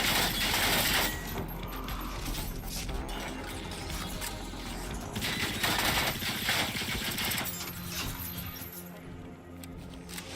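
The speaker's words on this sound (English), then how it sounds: "let's bust him up with the machine gun" Sustained machine gun fire in the open-world shooter Generation Zero, a fairly quiet rattling stream of shots over several seconds with mechanical clanks and game music underneath.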